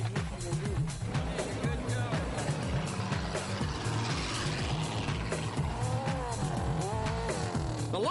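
Off-road junkyard-built race cars roar continuously through a race, engines revving and droning close by, with a loud commentator talking over the steady engine noise throughout.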